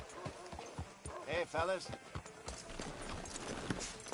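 Horse hooves clip-clop in Red Dead Redemption 2, steady hoofbeats in a town outside a sheriff's office, running under a man's brief spoken greeting and other nearby talk.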